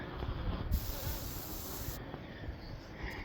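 A dense, steady hum of many honey bees buzzing close up inside a hive being insulated for winter, a continuous droning swarm with a soft hiss, no voices.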